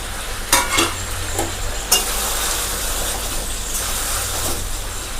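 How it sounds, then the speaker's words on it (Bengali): Tomatoes go into a pan of chicken curry with potatoes and sizzle steadily, with a continuous frying hiss. A few sharp clatters of stirring or utensil knocks sound close up, and no one talks. "এই অবস্থায় আমি টমেটোগুলো দিয়ে দিলাম এতে।"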